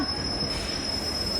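Train wheels or brakes squealing in a high, sustained whine over the rumble of rail cars, close and steady.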